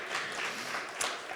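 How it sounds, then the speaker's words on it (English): Faint, distant applause from a conference audience at a startup showcase event, a soft continuous wash of clapping without distinct individual claps. "Let's give him a round of applause,"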